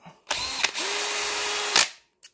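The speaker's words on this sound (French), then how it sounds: "Sur ma perceuse, c'est réglable. Ça se débraille. Donc c'est ça que vous entendez le bruit." A close, loud electric drill whirs, briefly stops, then runs again with a steady grinding rattle from its adjustable clutch slipping before cutting off.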